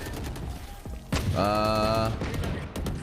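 Valorant gunfire with a few sharp shots early on, followed by a loud bright ringing tone with layered harmonics that lasts under a second, near and clear.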